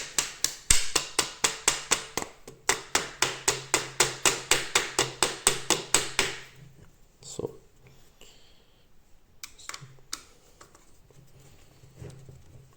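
A rapid series of sharp hammer taps, about twenty evenly spaced blows, drives a part into a 3D-printed repeating crossbow and stops abruptly; afterward a few quieter clicks and handling sounds follow in near silence.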